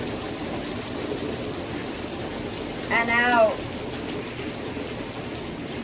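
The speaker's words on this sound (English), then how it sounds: "Notice the sound of the rain going through you." Steady rain falls throughout with a constant soft hiss, and a calm voice speaks briefly midway over it.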